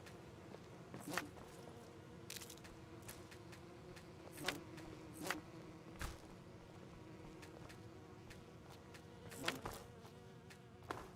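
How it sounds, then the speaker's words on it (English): Dense swarm of bees and other bugs buzzing steadily inside a Skyrim VR game area, a continuous droning hum with a few sharper passes and clicks, no voices. "The bees are annoying."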